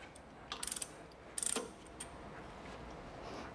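A compact ratcheting chain hoist lowers a drill press table, giving two quick bursts of sharp ratchet clicks close by, then a quiet, still workshop.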